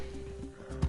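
Horse in the Red Dead video game giving a short whinny near the end, with soft hoofbeats before it and a faint background drone.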